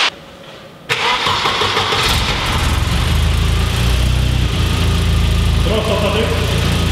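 A Biltema turbo-tuned car engine cranks and catches, then settles into a loud, steady, rough idle close by.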